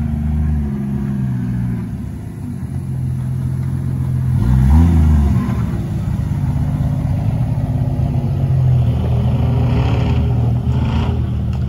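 A stock Lada Niva off-road engine runs close by with a steady low rumble and revs sharply around the middle before settling back to a rough, continuous drone.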